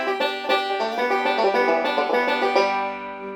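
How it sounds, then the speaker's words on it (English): A banjo plays the A part of Cripple Creek with rolls, a quick continuous cascade of bright picked notes that rings out and fades at the end, close and alone with no talking. "The A part sounds like this with rolls and all that."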